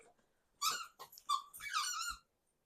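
A dog squeaking a squeaky toy in a few quick, sharp bursts close by, with brief quiet gaps between squeaks.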